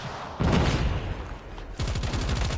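Rapid automatic gunfire in COD Mobile aimed at an enemy UAV, a dense loud burst followed by a second run of rhythmic shots, with no talking.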